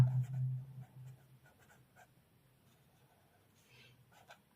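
A pen scratches across paper while statistics working for a class 10 maths lesson is written out, giving short faint strokes with gaps between them and a low hum at the very start.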